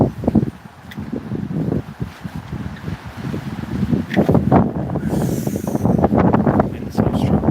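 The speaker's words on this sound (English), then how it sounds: "Wind so strong." Strong wind buffets the microphone in a garden, making a steady, loud, rumbling roar with gusty swells that grow stronger in the second half.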